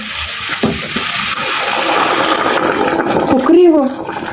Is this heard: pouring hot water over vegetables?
yes